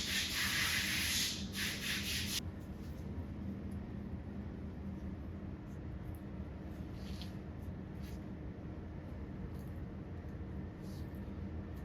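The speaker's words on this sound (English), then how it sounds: "Scrape the bottom, make sure you're getting all the stuff at the bottom" A tool scrapes along the bottom of a container in short strokes, a bright rasping burst at first and then a softer, steady rubbing continuing alone at close range.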